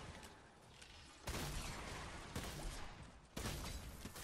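Rapid gunfire from a gun in a horde-rush video game, loud and dense, with sharp bursts that jump up at intervals over a constant roar of shots and explosions.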